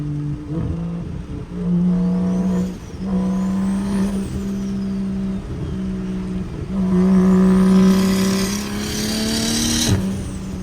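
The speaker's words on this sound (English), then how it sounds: "Do a little anti-lag" Straight-piped single turbo BMW 335i revving repeatedly, its engine note rising and falling in several loud bursts up close, with crackling anti-lag pops and a sharp whoosh from the turbo between revs; no voices.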